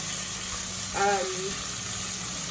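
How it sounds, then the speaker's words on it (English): Soft steady sizzling of garlic, ginger and chilies frying in a pan, a constant hiss with a brief tonal squeak partway through. "I'm just frying that down"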